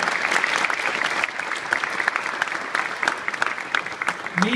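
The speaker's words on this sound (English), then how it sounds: "they really deserve a round of applause for all their work behind the scenes" Audience applause fills a hall at a motorcycle presentation for the Suter MMX 500, dense steady clapping holding at an even level throughout with no speech over it.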